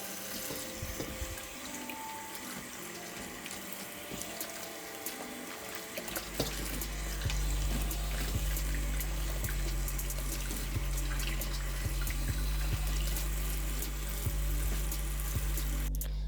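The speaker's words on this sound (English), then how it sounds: "I put them in this container and I am going to wash them" Mushrooms are washed in a container under a running kitchen tap, first with light splashing and handling, then a steady loud stream of water pouring into the filling container.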